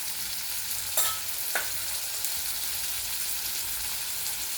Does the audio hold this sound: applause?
no